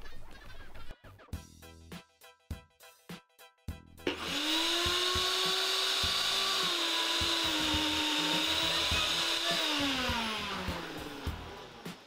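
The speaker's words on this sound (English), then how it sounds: "We're going to blend it again." A kitchen blender blending hummus with garlic added, starting with a few short pulses and then running in a loud, steady whine for several seconds before winding down.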